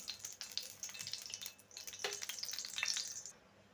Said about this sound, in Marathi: तेल गरम झालं जिरं टाकून घेऊ